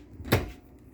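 A single quick cabinet door opening with a short clack and rustle inside a luxury bus kitchen, close and alone.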